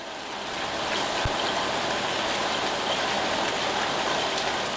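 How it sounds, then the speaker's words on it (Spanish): Rain effect from the Serenity 2 synth plugin, a continuous broadband patter of falling rain that swells in at the start and then holds steady and fairly loud, with no voices. "lluvia,"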